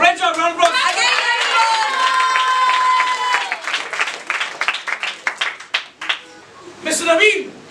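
A small group at a felicitation celebration gives a round of applause, clapping mixed with excited voices and shouts, thinning into scattered claps before more talk.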